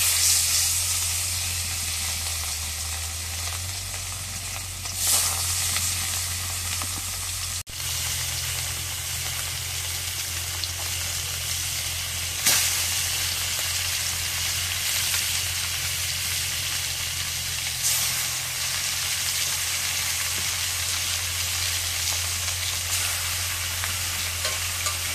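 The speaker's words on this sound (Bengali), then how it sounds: "এখন তেল গরম হয়ে গেছে, মাছগুলো দিয়ে দিই।" Pieces of a two-kilogram carp fry in hot oil with a steady, dense sizzle and hiss that holds near and loud throughout, with a few brief stirring knocks and no talking.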